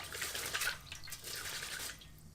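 Water splashes and trickles softly as a hairbrush is rinsed under running water, a faint, close wet patter lasting a couple of seconds.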